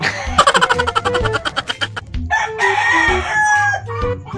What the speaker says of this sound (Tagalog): Dahil manok.